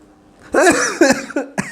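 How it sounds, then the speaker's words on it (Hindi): A man ill with Covid-19 coughs in several quick, harsh bursts, loud and close, with short gaps between them. "खांसी आ रही है"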